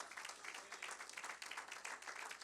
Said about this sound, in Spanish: ¿Alguien puede darle un aplauso a Cristo Jesús?